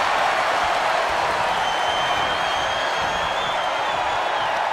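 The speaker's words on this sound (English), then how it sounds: "What a raucous crowd here tonight." Roaring arena crowd in the wrestling video game WWE 2K23, a dense, steady wash of cheering and noise that stays loud and unbroken throughout, with no clear voices above it.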